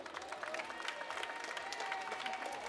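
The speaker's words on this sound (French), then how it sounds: "On peut les applaudir." An audience at the Grand-Est and BFC regional final of the Trophée des Seniors applauds steadily, a dense patter of many hands clapping throughout with faint crowd murmur beneath.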